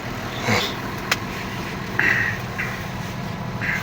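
A John Deere 6610 tractor engine runs steadily up close during sowing, a continuous low rumble with occasional faint clicks and a short higher mechanical squeal.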